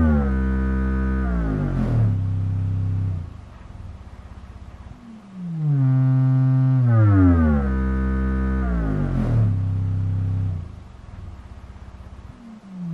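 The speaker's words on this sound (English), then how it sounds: "I quick just put a simple sine wave kind of going down real quick." Deep synthetic tones glide downward in repeated sweeps, each starting higher and dropping low, with short pauses between them.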